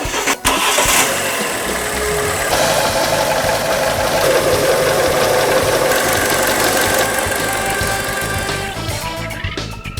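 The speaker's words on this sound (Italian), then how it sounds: "il motore dovrebbe partire al primo colpo" Car engine cranking and firing up right after a timing belt replacement, catching quickly and settling into a loud, close, steady run with a slightly knocking mechanical rattle.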